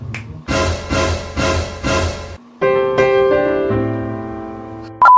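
Four sharp, percussive hits land in a quick even rhythm, like finger snaps with a bright musical backing, then a sustained synth-like chime tone takes over and ends with a short bright ping.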